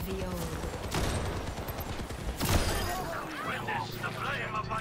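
Rapid gunfire in the video game Overwatch 2, several sharp bursts and single shots crackling over busy game effects, with a voice talking over parts of it.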